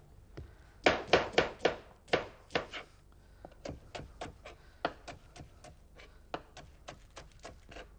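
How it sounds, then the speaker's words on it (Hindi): Spring onion, onion and spices being pounded into a paste, giving a run of sharp, evenly spaced hard knocks, loud clustered strikes early and then steadier, fainter taps with brief pauses. "उसको भी पीस लेते हैं हम एक पेस्ट बना लेते हैं सब मसालों और प्याज को मिला के"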